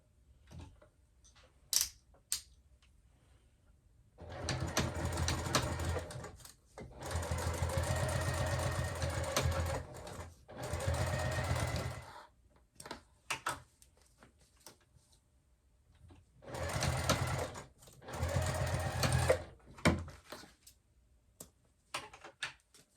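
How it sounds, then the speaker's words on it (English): A home sewing machine stitches a 3/8 inch seam on a fabric wristlet clutch, running in several steady whirring bursts separated by pauses with small clicks and handling noises. "we can go ahead and sew at a 3/8 inch seam allowance"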